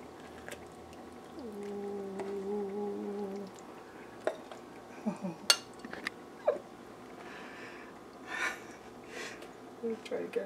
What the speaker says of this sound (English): I'm going to scoop out a couple of shells.